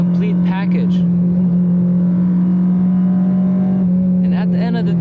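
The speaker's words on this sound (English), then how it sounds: "when you push it, this car screams like no other car" A Honda Civic Type R FD2 sedan runs with a loud, steady engine drone throughout, a high-pitched rising rev tone breaking through near the start and again at the end.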